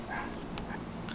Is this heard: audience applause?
no